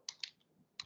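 Computer keyboard keys tapped while entering a web search, three quick clicks in a short burst with a pause before the last, close and fairly quiet.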